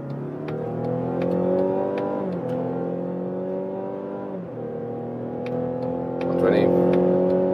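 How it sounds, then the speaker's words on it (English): Mazda CX-60 engine pulling hard from 50 km/h, a steady droning tone that climbs in pitch through two gear shifts, heard from inside the cabin with a passing vehicle swelling near the end. "we do an acceleration from 50 kilometers an hour with both drivetrains"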